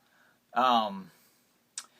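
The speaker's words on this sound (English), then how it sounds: "my cat's making a lot of noise." A cat lets out one drawn-out, wavering meow close by, then a brief high chirp a moment later, in an otherwise quiet room.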